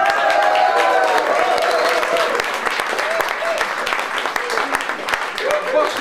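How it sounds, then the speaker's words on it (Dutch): A live audience applauds a guitarist at a concert, with steady, full crowd clapping and some cheering that lasts the whole clip while a host speaks over it. "geef hem een geweldig applaus"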